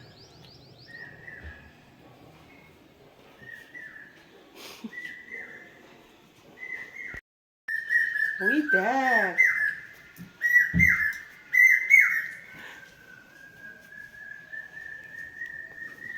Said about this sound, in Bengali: কি পাখি ডাকছে